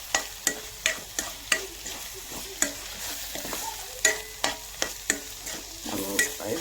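Egg bhurji stirred in a pan over a low flame: a spatula scrapes and taps the pan in a steady series of sharp strokes over a soft, constant sizzle, close and fairly clear with no talking.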